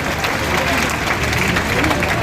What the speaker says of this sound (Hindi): तालियों से अभिनंदन करके उनको समर्थन देने का काम करेंगे